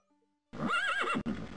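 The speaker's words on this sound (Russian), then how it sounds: "Лошадь." A horse neighs loudly and close in the Daggerfall video game, a rising whinny lasting about a second followed by a short snorting tail, with no talk over it.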